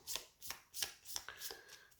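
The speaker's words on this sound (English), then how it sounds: "So let's shuffle these." A deck of board-game action cards is shuffled by hand in a quiet room, giving about six quick, crisp riffling flutters close to the listener.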